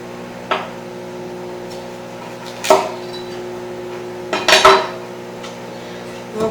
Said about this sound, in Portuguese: vou colocar ela aqui em cima da tábua, vou cortar a pontinha, as 2 pontinhas da cebola